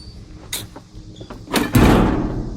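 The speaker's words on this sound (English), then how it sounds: "Now, so my doors, they close real nice." Heavy steel door on a smoker built from a 275-gallon fuel oil tank swings shut with a couple of short metallic knocks, then a louder, fuller closing thud that rings out briefly.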